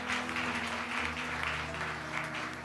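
A church audience in Paris applauds to encourage a woman who has come to give testimony, with steady, fairly faint clapping over a sustained musical tone throughout.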